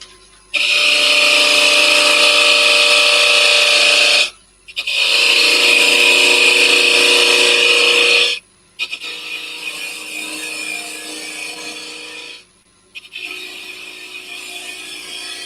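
Wood lathe spindle turning the stem of a wooden gin glass, a loud steady whirring cut in three long bursts separated by short pauses, the last bursts slightly quieter, with no talking.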